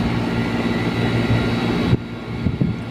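An old air conditioner compressor runs with a loud, steady low rumble and hum, with a sudden shift in tone partway through followed by a few clunks and rattles.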